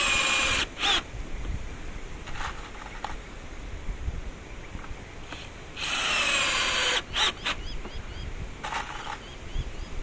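Power drill driving screws into the wood of a cheap garden bed, with several short whining bursts and one longer run, heard close amid outdoor background noise.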